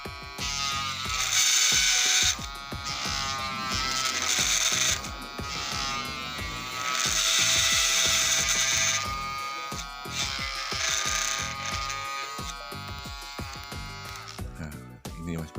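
Steady whirring machine noise with a rhythmic ratcheting, grinding texture from a lathe turning a knife blade, continuing for a long stretch.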